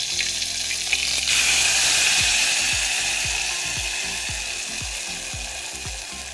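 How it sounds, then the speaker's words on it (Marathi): Cloves fry in hot oil for a Kolhapuri chicken curry, sending up a dense continuous sizzle while a series of regular low scraping knocks from stirring repeats through the second half. "आता हे ना जरास तेलामध्ये फ्राय होऊ द्यायचं"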